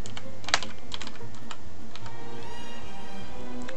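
Keys clatter on a computer keyboard as a word is typed in, a quick run of close, crisp clicks with short pauses between bursts and no talking.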